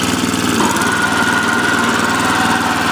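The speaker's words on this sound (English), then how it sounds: "Let's then get a picture of the auger assembly spinning underneath it for you." A small MTD snowblower engine runs steadily at close range with its auger assembly spinning, a dense, even mechanical drone with a rapid chattering pulse and no breaks.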